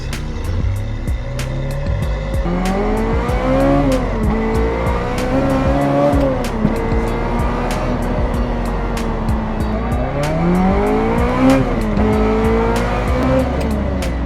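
A Ferrari F355 fitted with track brake pads is driven, its engine rising and falling through the gears while the brakes give repeated high squeals, loud and close from the cabin, with no talking.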